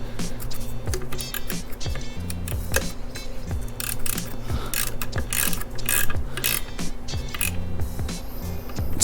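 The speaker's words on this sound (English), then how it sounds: "I'm gonna go back to my 10 millimeter and I'm gonna tighten up the horn in the back" A ratchet with a 10 mm socket tightens a horn mount on a Can-Am Ryker, with quick repeated close clicking strokes in an uneven rhythm and a low hum underneath.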